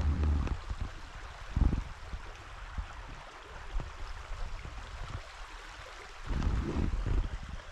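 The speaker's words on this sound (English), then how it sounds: "we're sitting on the little rock beach right now with the creek behind us" A creek flowing behind a small rocky beach at an Alaskan campground, a faint, steady rush and gurgle of water with a few soft knocks and thumps close by.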